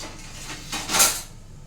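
A lid is set down over a cooking pot, giving a single metallic clink and short clatter near the end, with quiet room background before it.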